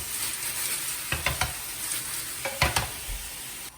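Beef for a Korean beef meal prep frying in a pan, a loud continuous close-up sizzle with a few quick scrapes and taps as the meat is stirred, with no talking.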